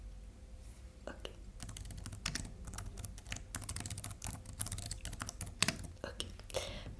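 Rapid, close computer keyboard typing in a quiet ASMR setting, with a steady patter of soft key clicks and occasional louder keystrokes under faint whispering.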